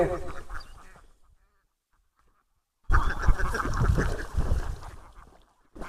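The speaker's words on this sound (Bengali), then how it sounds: "এই যে অনেকগুলা হাঁস, মনে হচ্ছে ফার্মের হাঁস।" Many farm ducks quack, heard from a roadside. Bursts of loud, overlapping quacking come close by, break off into near silence for a couple of seconds, then return strongly.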